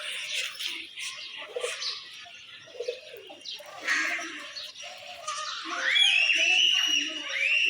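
Crossbred domestic pigeons give scattered low coos in short bursts, mixed with brief chirps and a sharp rising call near the end, fairly close and moderately loud.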